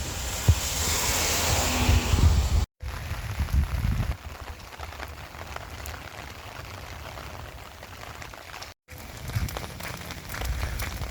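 Heavy rain and hail pummel the Arizona desert in a loud, dense patter that surges, drops out briefly twice, then returns steady and close.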